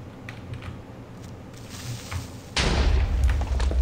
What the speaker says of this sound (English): Creeper explosion.